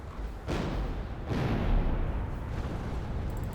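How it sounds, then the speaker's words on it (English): Cannons in a Medieval 2 Total War siege fire at castle walls, two heavy booms in quick succession followed by a sustained rumbling roar of destruction. "In the meantime, we'll see our cannoneers continue to fire."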